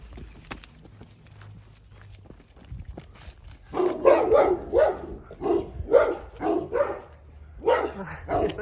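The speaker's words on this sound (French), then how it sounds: "C'est Socrate qui fait aboyer tous les chiens." Several dogs barking in repeated bursts at a roadside stop while a bus is being converted into a camper, the barks loud and fairly close after a quieter stretch of faint background noise.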